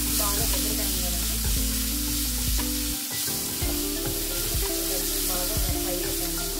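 Garlic gravy ingredients frying in a pan: a loud, dense sizzle fills the whole stretch, close up, with repeated stirring scrapes and clatter and a brief dip midway.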